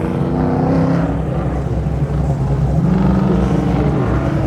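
A race car at an autocross event roars past with a loud, continuous engine drone whose pitch rises and falls as it works through the course, with no talk over it.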